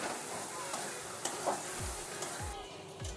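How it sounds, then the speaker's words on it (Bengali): Turmeric powder and salt being stir-fried in a hot pan for a chicken gizzard and jackfruit curry, giving a steady close sizzle with several scraping strokes of a spatula across the pan. "দিয়ে দিচ্ছি 1/2 চামচ হলুদ গুঁড়ি আর 1/2 চামচ লবণ, দিয়ে ভালো করে একটু কষিয়ে নেব।"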